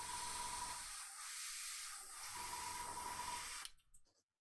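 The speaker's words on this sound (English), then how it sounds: "Just going to give them a little bit of a spray across that top edge." Spraying paint onto board game miniatures: a close, steady aerosol hiss in short sustained bursts that cut off abruptly near the end, leaving quiet.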